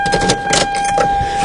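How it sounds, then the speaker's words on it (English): Keys clink as a Lexus ignition is turned to the on position, a brief close metallic rattle with a faint click. "so let me turn the car to on."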